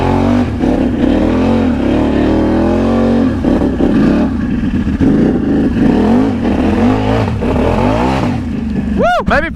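A four-wheeler in four-wheel drive revs hard through a backyard mud hole, its close, loud engine rising and falling with wheelspin, while a person talks over it.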